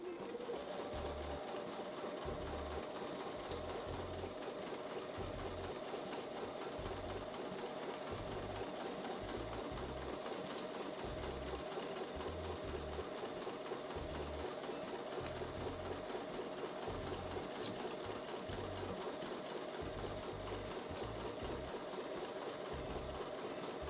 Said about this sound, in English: So I'm going to take that back over to the sewing machine and sew the last seam with a 1/4 inch seam.